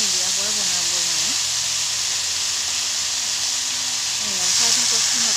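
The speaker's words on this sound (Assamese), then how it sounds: "এতিয়া ঠুকুনা ফুলখিনি মায়ে দি অকণমান ভাজি ল'ব" Thukuna flowers fry in a pan without any water, giving a steady, close hiss and sizzle that holds throughout and swells slightly near the end, while a voice talks over it.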